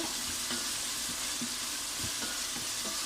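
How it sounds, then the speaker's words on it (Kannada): Carrots frying with onion in a pan for vegetable pasta, a dense continuous sizzle with faint stirring knocks underneath, close and steady with no voices. "ಕ್ಯಾರೆಟು ಆನಿಯನ್ ಸೊಟ್ಟಿಗೆ ಹಾಕಿ ನೀವು ಕ್ಯಾರೆಟ್ ಕೂಡ ಫ್ರೈ ಮಾಡ್ಕೋಬೋದು"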